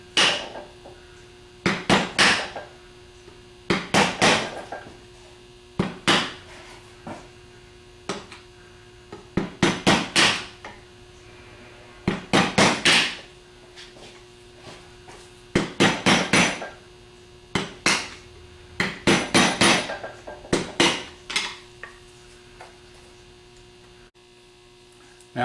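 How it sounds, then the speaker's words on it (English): Repeated bursts of metal tapping, a hammer striking a screwdriver against an aluminum alternator housing during a rebuild, come in short rhythmic clusters every couple of seconds over a steady mains hum, close and fairly loud with no talk. "I'm going to go around and tap it with a hammer to push some of the aluminum back out of the way"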